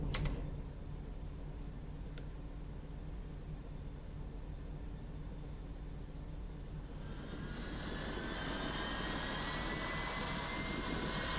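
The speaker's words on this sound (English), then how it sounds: "the fuel pumps for all tanks go on, and engine 2 starts" A Boeing 777 jet engine spools up in the X-Plane 11 flight simulator, a steady low cockpit rumble joined after a few seconds by a rising whine that builds and holds, with a brief click at the start.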